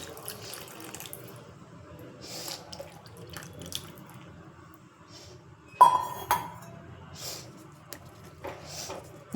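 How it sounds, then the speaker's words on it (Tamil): Tamarind water is poured into a pan of onion thokku in a home kitchen, a steady liquid trickle lasting several seconds with a few clinks of vessels, louder splashes near the middle, and no talk. "இப்போது கரைச்சி வச்ச புளி தண்ணியும் ஊற்றிடுறேன்."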